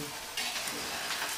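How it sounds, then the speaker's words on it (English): Three-egg omelette sizzling in a pan as a flexible fish turner slides under and flips it, the frying hiss jumping louder right after the turn. "So here we go. We're going to flip it."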